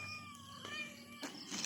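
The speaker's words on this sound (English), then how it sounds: "Cat's with me again, under my feet." A cat meows a few times close by, underfoot in a farm piggery, the cries short and spaced over a faint steady background.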